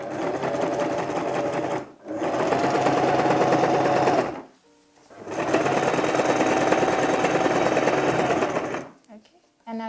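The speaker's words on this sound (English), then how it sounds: "So I'm just sewing against the line I drew earlier on." Sewing machine stitching a kaftan dress along a drawn line, loud and close, in three long bursts of fast whirring stitches separated by brief stops.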